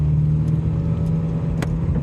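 A Honda Jazz with a CVT automatic gearbox accelerates at full throttle, a steady, even engine drone with no judder, heard close up from the cabin, with a couple of faint clicks and no talk.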